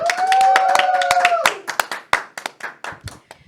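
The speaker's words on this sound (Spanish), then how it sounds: "el cual recibimos con un fuerte aplauso" A studio audience claps to welcome the Spanish-language TV show Un Café con Tres de Fe. A brief tonal sound opens over the first claps, which then thin to scattered, sharp hand claps that fade out.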